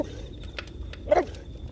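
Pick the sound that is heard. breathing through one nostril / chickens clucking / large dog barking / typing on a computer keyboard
large dog barking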